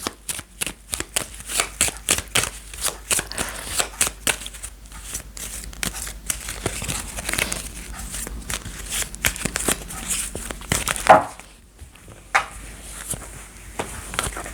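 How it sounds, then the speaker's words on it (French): Lenormand oracle cards shuffled and drawn by hand: a long run of rapid, close riffling flicks and soft slaps with a brief pause near the end. "je tire les cartes pour vous"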